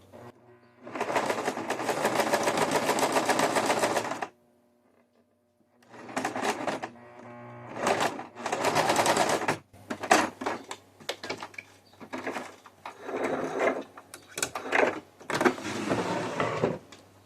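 A sewing machine stitches bias tape onto a fabric reusable coffee filter in close, fast whirring bursts of a few seconds each, separated by short pauses.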